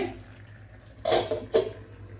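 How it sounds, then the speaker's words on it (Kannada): A lid set onto a pan of chicken cooking in masala, two quick metallic clanks about half a second apart over a faint background hum. "ಈಗ ನಾನು ಸ್ವಲ್ಪ ಲಿಡ್ ಮುಚ್ಚಿ ಇದನ್ನು ಬೇಯಿಸ್ತೇನೆ."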